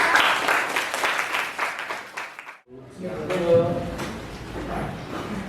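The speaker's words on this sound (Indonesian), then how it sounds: "Tepuk tangan untuk kelompok yang ada di depan." Classmates clap for a group presenting at the front of a class, a brisk burst of applause for a few seconds that stops abruptly. A speaker's voice then begins talking.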